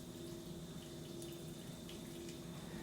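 A steady stream of hot water from a Keurig pours continuously into a bowl of noodles at low volume, a soft rushing hiss with no breaks.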